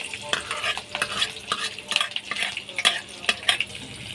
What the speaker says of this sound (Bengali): রসুন কুচি আর কাঁচা লঙ্কা কুচি আছে, এটা দিয়ে দেবো।